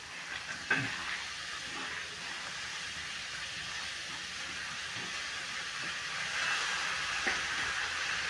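Whole masoor lentils tipped into a pan of hot masala for a dhaba-style dish, a faint, continuous hiss and sizzle with a brief clatter near the start, swelling slightly toward the end, no talk.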